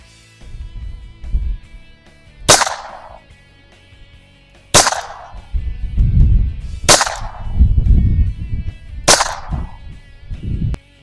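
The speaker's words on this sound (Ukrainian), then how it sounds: "Змінили дистанцію, перевіряємо револьвер." Four sharp, loud revolver shots from a ZBROIA ALFA mod 820G fired at a target 8 meters away, spaced about two seconds apart, with each crack ringing briefly between rustling handling noise and a little talk.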